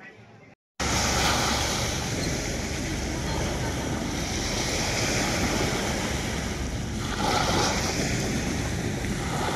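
Waves wash steadily at the seashore by a fish terminal as a continuous loud roar of surf, thickened by wind buffeting the microphone, with a short silent gap at the very start.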